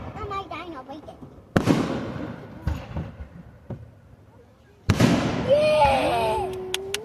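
Fireworks bursting outdoors at an Ohio fireworks show, a few sharp, loud booms spaced several seconds apart with crackling tails, heard amid people talking and a whistling rocket near the end.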